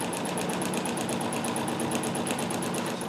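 A Dressmaker 2402 sewing machine stitches fabric in a steady, rapid mechanical whir with an even repeating needle rhythm, close and continuous throughout, no talking.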